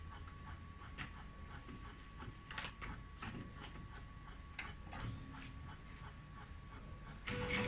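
A 30cm DTF printer runs a test print, its quiet mechanical whirring and light ticking steady and faint throughout, with a brief louder shift near the end.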